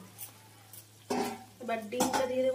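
A utensil stirs Maggi noodles in a pot of boiling water, giving a few scraping, clinking strokes against the metal that grow busier toward the end. No one speaks.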